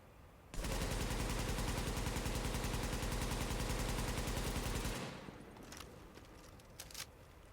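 A SCAR-L assault rifle in The Division fires one sustained fully automatic burst of rapid, evenly spaced loud shots for about four seconds, then stops, leaving a faint tail and a few soft clicks.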